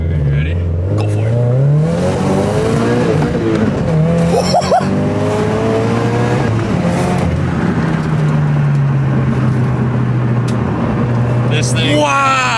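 A 2014 Subaru BRZ on RT66 tires accelerates hard through several rising gear pulls, its engine note climbing and dropping between shifts, loud and close from inside, while people talk and exclaim over it.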